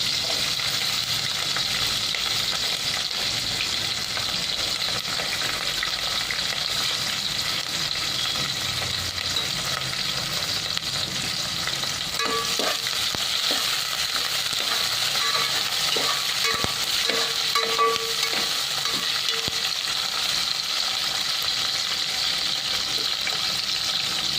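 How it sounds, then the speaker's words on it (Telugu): Green chillies and onions fry in hot oil for vegetable pulao, giving a steady, close, dense sizzle that runs unbroken throughout, with faint stirring clinks partway through. "ఆయిల్ హీట్ ఎక్కింది కాబట్టి పచ్చిమిర్చి వేసేస్తున్నాం ఉల్లిపాయలు"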